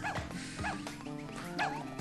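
A dog character in a video game gives a few yipping barks and whimpers over a game soundtrack, moderately loud, with no talking.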